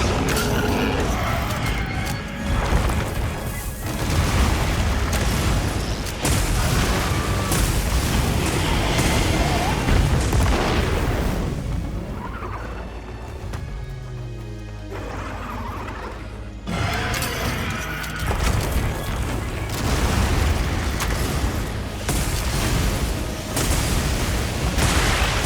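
Heavy, dense rumbling booms and crackling blasts from video game Dragon Pod explosions fill the clip almost nonstop, dipping briefly in the middle before the loud explosive barrage returns.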